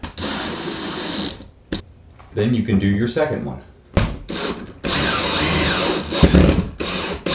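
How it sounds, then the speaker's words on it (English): A power drill whirs in sustained bursts, driving a screw into wood, with a person speaking briefly between the runs. "you can drill that bad boy in there"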